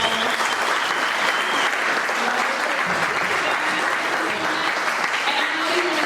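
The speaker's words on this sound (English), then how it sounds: "Let's give our management panel a round of applause." Steady, dense applause fills a room at a music industry panel event as the audience claps for the management panel, continuous and even throughout with faint crowd murmur beneath.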